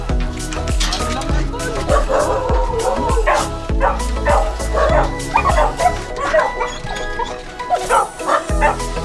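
Beagles bark and yip close by in a rapid, overlapping run of sharp calls, with some whimpering mixed in and people talking underneath.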